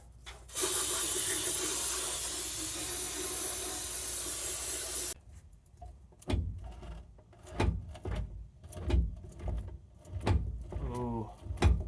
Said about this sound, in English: Let me go grab the brake clean and we'll clean it up